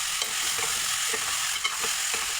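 Masala is stirred and tossed through goat head curry in a pan of hot oil, giving a steady close sizzle with soft scraping knocks of the spoon now and then, and no voices.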